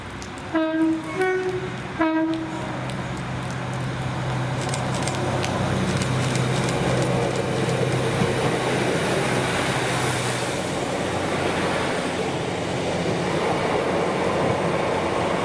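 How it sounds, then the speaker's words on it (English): Two Colas Class 56 diesel locomotives hauling an engineer's train pass Bowling, sounding three short horn blasts near the start, then a long, loud, steady roar of engines and rolling wagons. "wanted to see two Colas 56s on an engineer's train"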